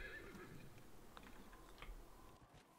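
A horse neighs in the video game Dragon Age Inquisition, a clear whinny over faint clip-clop and light clicking, fairly quiet and without talk.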